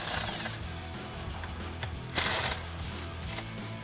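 Ratchet wrench clicking steadily as front bolts are backed out of an N-Fab nerf side step bar bracket on a truck, close and continuous with a brief louder burst midway.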